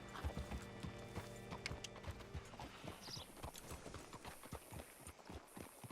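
A horse in Red Dead Redemption 2 clip-clops at a walk, its hooves knocking in an irregular rhythm at moderate distance, with faint ambient sounds behind.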